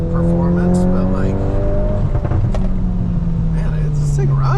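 A modified 2022 Volkswagen Golf R with a turbo engine accelerates from inside the car, engine tone climbing through gears over road noise while someone talks.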